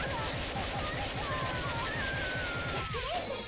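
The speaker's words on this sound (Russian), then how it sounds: "Вы посмотрите, сколько выстрелов делается." Rapid machine-gun fire from the video game Senran Kagura Shinovi Versus rattles continuously in dense, fast bursts, loud and steady over game music and effects.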